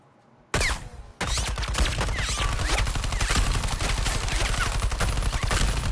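A long, continuous burst of rapid gunfire in the Suicide Squad: Kill the Justice League video game starts abruptly and stays loud and dense for several seconds.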